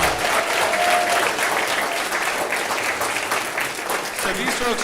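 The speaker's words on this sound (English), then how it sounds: "Let's get a huge round of applause." Applause from an audience honoring teachers at a regional pitch competition, a dense steady wash of many hands clapping throughout, with a voice briefly audible beneath it.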